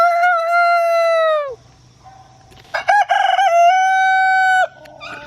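A rooster crows loudly and close, a long harmonic call, then after a short pause a second full crow, with faint background noise between.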